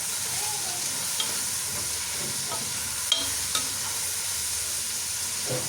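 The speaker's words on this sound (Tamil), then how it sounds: "நல்லா பொரிஞ்சு கொண்டிருக்குது" Onions or aromatics fry in oil and ghee for prawn biryani, a continuous close sizzle with faint crackles and a few soft stirring taps, no speech over it.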